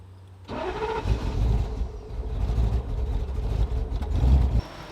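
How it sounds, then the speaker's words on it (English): A supercharged V8 swapped into a 1989 Toyota Supra fires up suddenly and settles into a loud, rough, lumpy idle with uneven rumbling pulses and a slight rise in revs near the end. "we have a 1989 Toyota Supra with a V8 and a big old supercharger"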